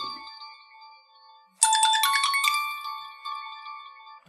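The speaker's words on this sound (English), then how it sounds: "I'm getting a phone call." Ringtone of an incoming phone call on a cell phone during a live stream: a bright, tonal electronic melody that starts abruptly and keeps repeating loudly at close range with no talking over it.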